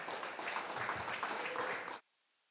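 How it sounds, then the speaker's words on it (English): A round of applause for two competitors fills a sports studio show as a dense, steady wash of many hands clapping for about two seconds, then cuts off abruptly into near silence. "How about one more round of applause for both our competitors in here?"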